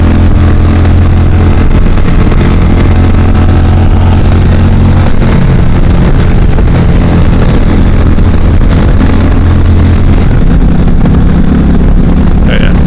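An Indian Darkhorse motorcycle rides along in third gear, its engine droning steadily under heavy wind rush on the microphone throughout.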